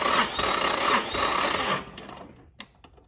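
A Mazda Miata engine cranks over on the starter during a compression test, a close, steady whirring chug for nearly two seconds before it stops, followed by a few faint clicks.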